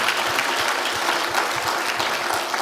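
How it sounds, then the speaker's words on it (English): Audience applause for a fire chief at a community bridge builders award event, a steady dense wash of clapping from a room full of people, even and sustained throughout. "You all give a round of applause for our fire chief"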